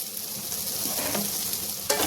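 Potatoes frying in a pan for an aloo gobi curry, a dense continuous sizzle up close with a couple of brief stirring scrapes and a sharper clatter near the end, no voices.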